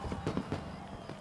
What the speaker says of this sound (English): fireworks. That was quite noisy.